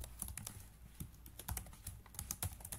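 Close, brisk tapping of a computer keyboard while code for a browser game is typed in HTML, CSS and JavaScript, with uneven bursts of keystrokes and no talking.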